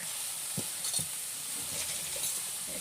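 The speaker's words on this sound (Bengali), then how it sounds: "শাকটা দিয়ে একটু নাড়াচাড়া করে নেব।" Khesari (koloi) greens being stirred in a frying pan, a soft steady sizzle with a few scraping stirs, close and alone without talk.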